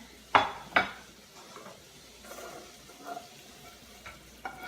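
A spoon clinks twice sharply against a pan, then softer scraping and stirring as hot honey is mixed into jalapeño Brussels sprouts with bacon, with faint sizzling underneath and no talking.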